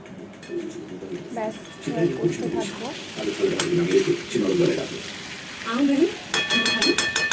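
Chicken pieces with fried potatoes stirred and sautéed in a pan, a steady sizzle with scraping stirs, while someone talks over the cooking.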